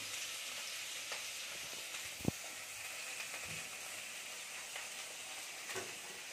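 Carrots fry in hot oil in a pan, giving a steady, soft sizzling hiss with a few faint clinks, close but fairly quiet.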